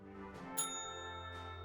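A bell in a video game rings with a clear metallic ding and then a second, softer strike, each leaving a long, shimmering sustained tone that fades slowly.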